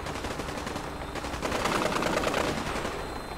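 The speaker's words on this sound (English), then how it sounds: "Oh, you're shooting." Fallout 4 video game gunfire: dense automatic shots rattle in a rapid continuous burst, loud and close throughout.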